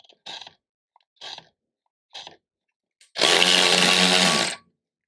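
A DeWalt DCF512B cordless ratchet spins up loud and close for about a second and a half, zipping a lug nut off a wheel stud after three short clicks of handling.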